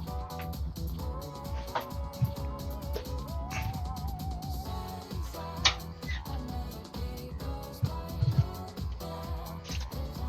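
A cat meowing repeatedly at close range during play, short mews over a steady bed of game music with soft background tones.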